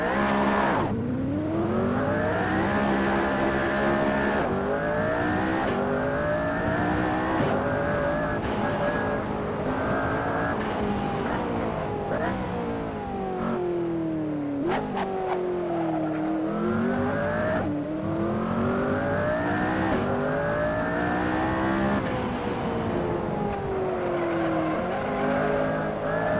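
McLaren P1 hypercar engine in the racing game Assetto Corsa, loud and continuous, revving up and down through repeated gear changes with rising pitch sweeps, occasional tire squeal, no talking.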